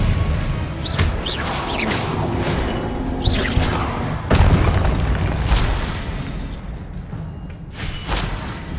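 Spell explosions in the video game Hogwarts Legacy: loud booms and crashes with whooshing bursts, one big blast near the middle, over constant game noise and music, with no talking.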